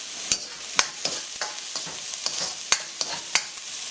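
Garlic, onion and ginger stir fry in a hot pan, with a steady sizzle broken by repeated sharp scrapes and clacks of a utensil against the pan at an uneven rhythm, close by and without voices.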